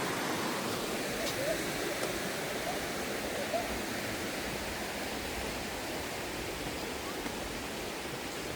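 Mountain river in a gorge at Cheile Băniței, a steady broadband rush of flowing water filling the scene evenly, close and continuous with no talk.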